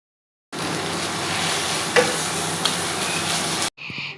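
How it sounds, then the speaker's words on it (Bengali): Taro leaves cooked with rohu and hilsa fish heads are stirred in a pan, a continuous close sizzle with a couple of brief clinks and scrapes of the spoon, no talking, ending abruptly. "দিয়ে এখানে ভালোভাবে নাড়তে হবে।"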